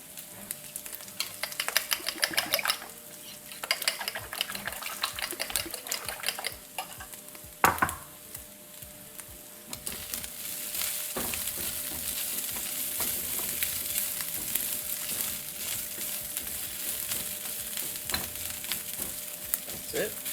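Pre-cooked sausage pieces sizzle steadily in a hot pan while being stirred for an egg and sausage tortilla, with spatula scrapes and a brief louder clatter of the pan partway through.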